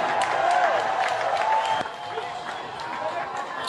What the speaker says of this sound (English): The crowds cheering them on.